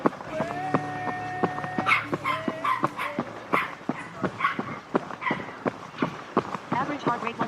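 Two dogs on a roadside give a rapid series of barks and yips, fairly close and irregular, mixed with scuffling footsteps and a brief tonal beep early on.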